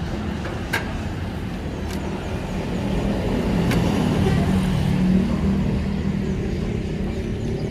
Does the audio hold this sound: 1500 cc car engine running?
yes